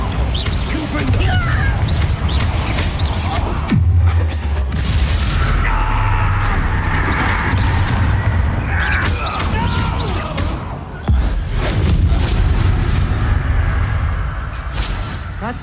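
Bombarda and Confringo spell explosions in the video game Hogwarts Legacy: loud booming blasts and crashes layered over dense combat noise and music, with a voice talking throughout.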